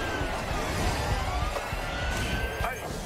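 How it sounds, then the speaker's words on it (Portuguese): A wailing police siren rises and falls in the background beneath a busy, noisy mix of chatter and game effects in the zombie video game Sunset Overdrive. "tá ouvindo essa sirene?"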